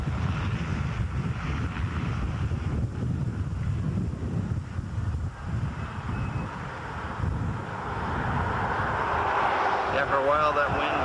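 Steady wind gusts buffet the microphone at an outdoor model airplane flying field, a loud rumbling roar that runs throughout and swells toward the end, with people talking underneath.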